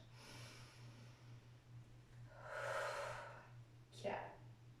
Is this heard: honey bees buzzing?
no